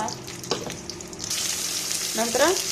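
Curry leaves hit hot oil holding mustard and cumin seeds for a bitter gourd palya, starting with light crackles and swelling into a loud, close, continuous sizzle, with a brief voice near the end.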